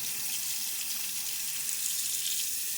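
Tap water runs steadily as a safety razor is rinsed under it, a continuous close hiss of flowing water over the sink with no voices.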